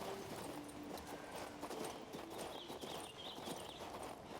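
Horse hooves walk in the video game King's Bounty II, a soft, steady clip-clop repeating throughout, faint and set against a low ambient game backdrop.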